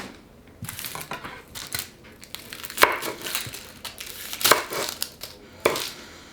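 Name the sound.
knife chopping onions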